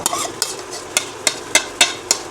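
Marinated chicken is tipped and stirred into a pressure cooker pot for biryani. Sharp spoon-on-metal knocks come at a steady beat, about seven in two seconds, over a faint sizzle.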